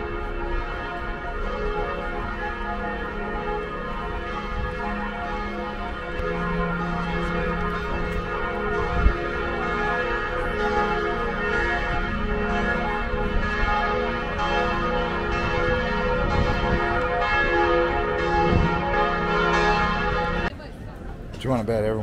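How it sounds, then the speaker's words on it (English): The bells of St. Stephen's Basilica in Budapest ring steadily in the distance, their tones layered and sustained, with people talking over them outdoors. "You can hear the church bells going."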